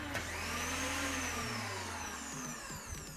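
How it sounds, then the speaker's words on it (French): A meat mincer grinds pork throat and liver, with a loud, continuous motor whine and churning that shifts pitch partway through as the load changes. "Une fois qu'on a bien haché toute notre viande"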